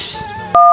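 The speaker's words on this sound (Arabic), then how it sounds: "لا ده انا لازم ارن عليه" Telephone keypad dialing: a faint high tone runs under background noise, then a single loud, steady dual-tone beep starts abruptly and holds to the end.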